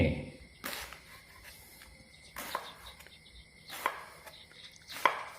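A knife cuts thin slices of banana blossom in a few sharp, separate strokes, fairly faint and close, spaced about a second apart against quiet insect chirping.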